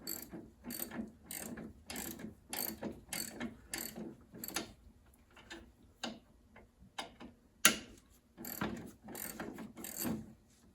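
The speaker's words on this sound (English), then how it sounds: "15 mil. Tighten." A ratchet tightens a 15 mm nut on a John Deere L130 mower front spindle, with quick bursts of close, crisp clicking, short pauses between strokes and one sharper knock near the end.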